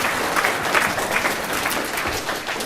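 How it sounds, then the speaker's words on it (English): An audience applauds a man named Deepak during a finance presentation: a steady, dense wash of clapping from many hands that holds at an even level for the whole stretch, with no voices over it. "So give him a round of applause."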